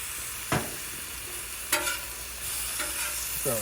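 Turkey slices laid into a hot pan for grilled sandwiches, a steady close sizzle and frying hiss with a few brief clatters of utensils against the pan.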